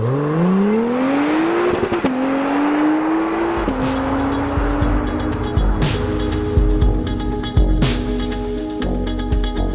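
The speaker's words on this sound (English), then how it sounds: "put my left foot on the brake, build up the revs." An Acura NSX road car engine revs up before a launch, rising in pitch through several gear shifts, loud and close, with sharp mechanical clicks and rumble underneath.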